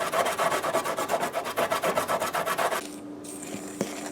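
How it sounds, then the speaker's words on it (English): Fresh ginger grated by hand for a Guyanese halwa, a rapid run of rhythmic rasping strokes close up, then the scraping stops and only a faint room hum with a light tap remains. "grating the ginger here"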